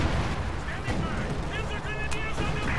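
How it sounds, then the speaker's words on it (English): Katyusha rocket artillery barrage in a World War II strategy game, a dense continuous rumble of blasts and crackling bursts running throughout, with whistling streaks overhead and a voice talking over it. "he loses his pack to the Katyusha barrage"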